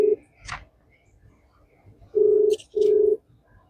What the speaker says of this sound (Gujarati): તો આપણે પિનાકલ સાહેબને ફોન કરીને જાણીએ એમની પાસે.